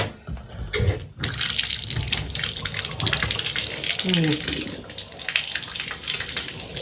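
Water runs steadily from a kitchen tap fitted with an aerator, a close, continuous hissing flow, briefly interrupted near the start, with faint voices in the background.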